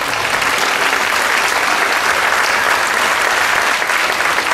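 An audience applauds a medal recipient in a dense, even burst of clapping that holds steady at close range and full volume throughout, with no voices cutting through.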